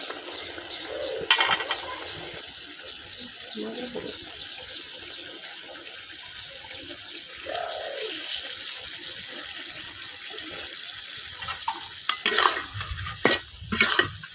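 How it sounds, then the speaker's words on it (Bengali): Mirka fish cooking in spice paste in a pan gives a soft sizzle, with intermittent stirring and clinks that grow louder and sharper toward the end; distant birdsong sits faintly in the background and no one speaks. "এখন মশলার সাথে মাছটা কিছুক্ষণ কষাইলাম"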